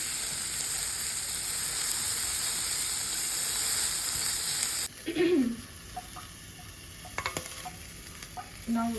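Mushroom, corn and jalapeno mixture sautéing in a pan: steady loud sizzle for about five seconds, then a quieter fry broken by scraping stirs and spoon clinks.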